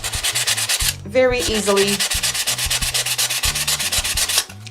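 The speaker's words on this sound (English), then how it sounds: "by sanding your paper and your glass at the same time" Close, rhythmic rasping of sandpaper scrubbing back and forth over paper collaged on a glass plate, loud and continuous, with a voice briefly speaking partway through.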